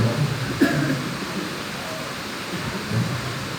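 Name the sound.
rain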